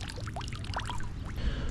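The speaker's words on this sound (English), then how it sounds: "Get all them juices in the water." Juice from a can of corn pours into the water outdoors while fishing, a short burst of close bubbling and trickling splashes.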